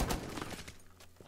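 Gunfire rings out in the Rainbow Six Siege video game as a quick burst of sharp shots, loud and close. Another cluster of shots cracks out at the very end.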